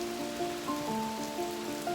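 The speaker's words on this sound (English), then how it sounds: "Even though it's raining, it doesn't stop you from appreciating the garden." Rain falls in a garden as a steady, even patter on surfaces, with soft tonal hums running beneath the hiss and no voices.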